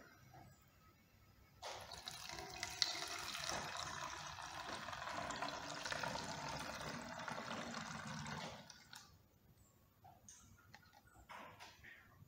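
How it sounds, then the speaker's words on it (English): Colored water poured from a glass into an empty plastic water bottle, a steady gurgling, splashing stream lasting several seconds up close, then stopping abruptly, with faint handling sounds after. "Then pour this water into the empty water bottle."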